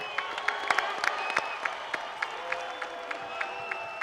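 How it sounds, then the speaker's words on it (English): Audience at a boxing press conference for Canelo Alvarez vs. Terence Crawford claps steadily, a dense hall-wide patter with scattered sharper claps, fairly quiet and distant throughout. "I would like everyone to give Turki Alalshikh a hand and a round of applause"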